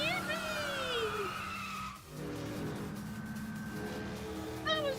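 A car in the Yakuza 5 video game drifts with long, loud tire skids and squeals over a steady engine drone, the squeal cutting out briefly mid-slide before returning.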